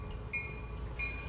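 A train led by a yellow diesel locomotive rumbles faintly at a heritage railway, with a low engine drone and two short, high squeals from the wheels or rails.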